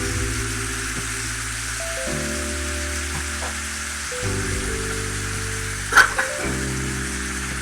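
Meat searing in a hot pan gives a steady, soft sizzle throughout, beneath sustained background tones, with a brief sharper crackle near the end.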